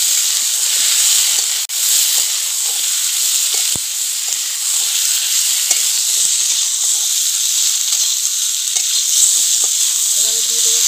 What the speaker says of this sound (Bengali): সবজিটা ভাজা হয়ে গেছে অনেকটাই।